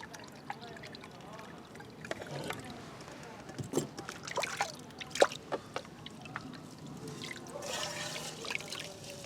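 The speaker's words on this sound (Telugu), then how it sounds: "నలకలు రాకుండా ఉండడం కోసం ఫిల్టర్ చేస్తున్నా" A brewed tobacco decoction is strained through a filter, producing quiet, irregular drips and a soft trickle with scattered sharper splashes, near and faint.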